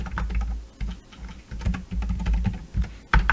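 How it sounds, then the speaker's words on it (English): Fingers type on an unusual computer keyboard at close range, an irregular run of clacky keystrokes with short pauses between bursts, heard alone without any voices. "Typing on an unusual keyboard"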